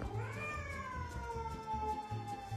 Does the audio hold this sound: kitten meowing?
yes